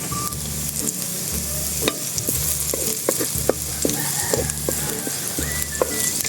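Onion sautés in a pan for a beef nilaga, with a constant sizzle broken by frequent spatula scrapes and clicks and a repeating low hum in the background.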